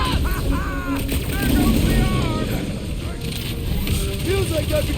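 Gunfire from the Guardians of the Galaxy video game as a big bug gets shot, a dense continuous barrage mixed with game effects and character voices talking over it throughout.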